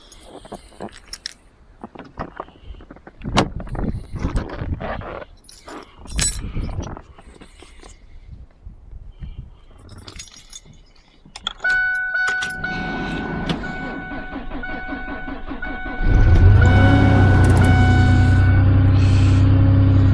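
A 1998 Ford F-150 with a 4.2L V6 is cold started in deep winter on a low battery: rattling, clunking handling noises first, then a cranking whine and the engine catching into a steady, loud close idle.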